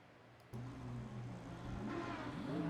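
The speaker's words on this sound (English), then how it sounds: "we'll hear the cars rev up" Lamborghini Super Trofeo race cars in a sim racing game idle low, then rev up at the race start, with engine drone building steadily and a louder surge near the end; fairly faint overall.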